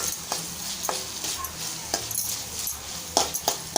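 Long green chili pieces sautéing in hot oil, a close, continuous sizzle with frequent sharp stirring scrapes and clinks of a spoon against the pan, no voices.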